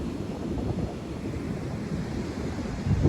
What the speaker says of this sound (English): I don't know if you can hear the waves in the background here.